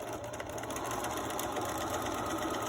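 A sewing machine stitching a second row on a fabric mask: a steady, fast mechanical whirring chatter, close and constant from start to finish, with no voices over it.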